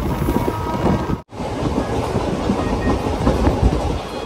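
An express train rolling through a station without stopping, a steady loud rumble with rhythmic clickety-clack of wheels and some wind buffeting, briefly interrupted by a sharp dropout.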